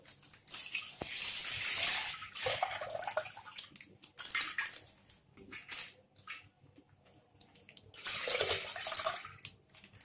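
Milk pours into a large cooking pot in several separate bursts, each a splashy, bright gush of liquid lasting a second or two, separated by quieter gaps with faint clinks, close up and with no talking.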